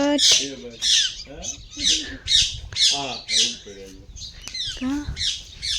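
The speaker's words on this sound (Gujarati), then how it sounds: "એ પોપટ આવ્યો પોપટ" A parrot squawks loudly and close by, letting out a rapid series of harsh, rhythmic calls, roughly eight bursts in a row.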